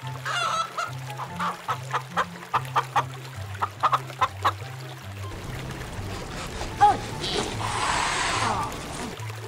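A chicken clucks in a series of short, rhythmic pulses over a bouncy musical backing. The clucks are fairly prominent and end in a brief louder squawk.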